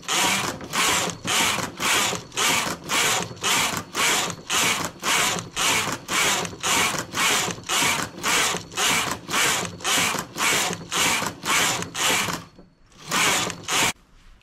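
A knitting machine carriage sweeps back and forth knitting plain stockinette for a sock, making a steady run of rhythmic rasping, zipping passes, each roughly half a second long, close and loud. Near the end there is a brief pause, then a few more passes.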